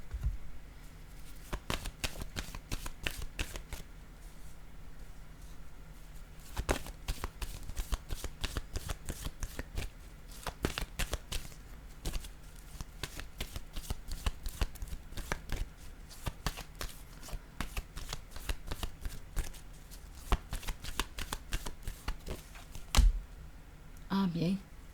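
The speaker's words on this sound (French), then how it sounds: "Je vais piger une carte de ce jeu." A deck of cards is shuffled over and over, fast riffling bursts and crisp snaps repeating in close, fairly quiet runs with short pauses between, ending with a brief low sound.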